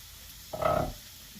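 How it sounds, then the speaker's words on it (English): Tomatoes dropped into a hot cast iron pan on medium heat give a short, sudden burst of sizzling that flares for about half a second, then fades back to a low hiss. "we're going to add the tomatoes right into the pan"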